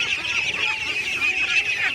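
Farm ducks honk and call continuously at close range, a dense overlapping flock chorus with no pauses and no talk.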